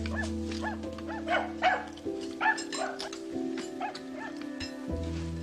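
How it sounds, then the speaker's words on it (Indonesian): A hungry dog barks from inside a parked car, a string of muffled, moderately close woofs and yips repeating irregularly over a steady low hum. "Anjing yang berada di dalam mobil tiba-tiba menggonggong karena lapar."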